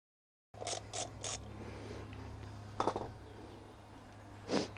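Rear brake disc bolts being loosened on a BMW S1000R motorcycle, with three quick metallic clicks of a ratchet early on, then a couple of sharper clunks over a steady low workshop hum, close and fairly quiet.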